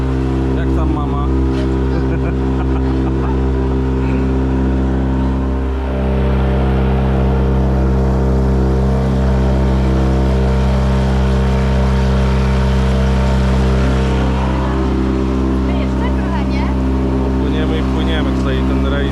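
A tour boat's engine drones loud and steady on a river cruise through Matka Canyon near Skopje, a constant low rumble with people talking faintly over it.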